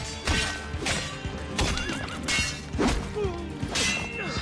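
A horse in the video game Assassin's Creed 2 whinnies and neighs repeatedly amid thuds and clattering hooves as it kicks someone, busy and close, with sharp impacts scattered throughout.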